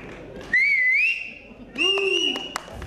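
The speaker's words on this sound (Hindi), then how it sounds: "एक बार जोरदार तालियां और सीटियां बजाएं हमारे परफॉर्मर्स के लिए" Audience members at a corporate award night whistle loudly for performers, with two long, sharp, rising whistles close by over a background of crowd murmur.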